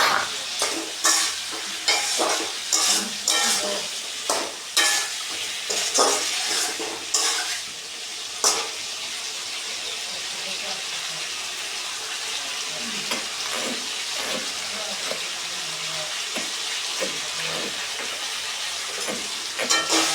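Tomatoes going into a frying tangra fish curry and being stirred, with spoon clatter and scraping over a steady sizzle that settles into continuous frying.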